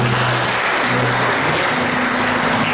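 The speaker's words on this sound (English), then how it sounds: "let's give our best clap offering to our God" Continuous applause from a crowd, a dense wash of clapping that holds steady throughout, with a low hum underneath.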